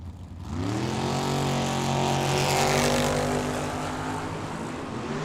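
Drag racing Chevy Nova and Chevelle at a time-trial run at a dragway, engines roaring loud and steady with rising harmonic pitch as they accelerate down the strip, sustained for several seconds.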